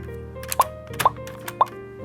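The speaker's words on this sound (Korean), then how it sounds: "바로 키보드에 꽂아보러 가겠습니다" Resin keycaps with Korean Hangul lettering and aurora shell inlay are pressed onto keyboard switches, making three separate crisp plastic clicks about half a second apart, close and clear over quiet background.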